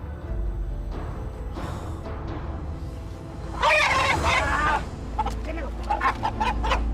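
Roosters crowing and clucking at an Indonesian cockfight, several calls rising over a busy crowd noise, one burst loud and close in the middle and shorter cries near the end.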